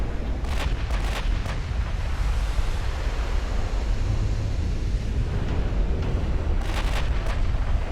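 18-inch naval guns firing in the warship game Ultimate Admiral Dreadnoughts, a few sharp cracking reports at the start and end over a constant loud roar of sea and battle rumble.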